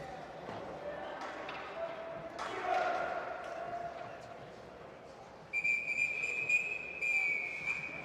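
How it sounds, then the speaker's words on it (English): A referee's whistle at a youth U15 game rings out in a few sharp, shrill blasts near the end, over a steady murmur of crowd noise in an indoor arena. "The referee's whistle"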